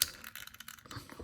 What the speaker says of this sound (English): That clicking noise, that's his legs.